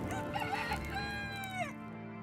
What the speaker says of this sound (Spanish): Pedro volvió a negar y enseguida cantó un gallo.